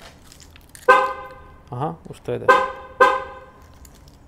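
Short horn toots from a Škoda Octavia 3 RS, sounded as an acoustic confirmation after coding, come as three or four brief honks close by, with a voice speaking in between.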